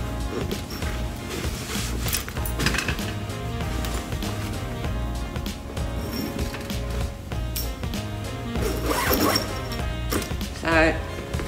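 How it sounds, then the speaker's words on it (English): Zipper being run along a black Darche Cold Mountain Canvas 1400 -5C canvas sleeping bag during pack-up, close and busy, mixed with rustling fabric and handling noises, with talk over parts of it. "Get the zipper started."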